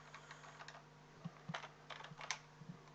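Typing on a computer keyboard, a handful of soft, irregular key clicks close by and quiet over a low steady hum.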